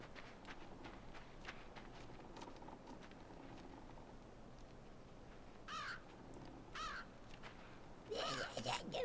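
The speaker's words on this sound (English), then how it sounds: "there's a crow." A crow in the video game Limbo caws a few times in harsh, hoarse bursts, the calls rising out of a faint, muffled ambient background, with a louder burst of noise near the end.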